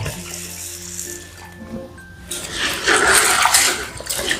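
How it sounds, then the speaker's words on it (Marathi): Water sloshing and splashing as wheat grains are rubbed and rinsed in a bowl, growing louder toward the end. "आता हे दोन पाण्याने गहू धुवून घेते"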